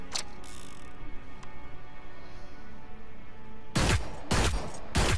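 Gunfire in the video game Hyper Scape from a weapon firing at long range: a short opening burst, then a quiet stretch, then three loud sharp broadband shots spaced about half a second apart near the end, with no talk.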